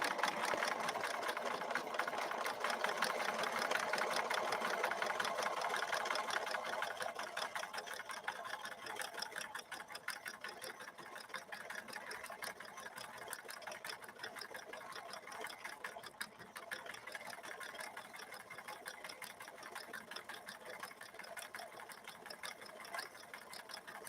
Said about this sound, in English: All right, I'm going to slow my machine way down.